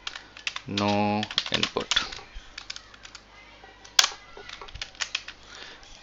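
Someone types on a computer keyboard in a close series of quick, uneven key clicks with a few louder strikes. Someone speaks briefly near the start.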